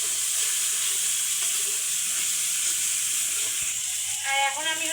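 Spice paste of onion, garlic, ginger and nut fries in a pan with a constant close sizzle and hiss, and a brief bubbling spatter near the end, with no talking.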